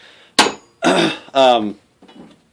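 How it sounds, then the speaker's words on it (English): A big hammer strikes down on the pin protruding from a riding mower's rear end: one sharp metallic bang, then two longer ringing clangs in quick succession and a fainter knock, loud and close. "I just took my big hammer and I hit right down on top of it on the pin that comes out of the rear end"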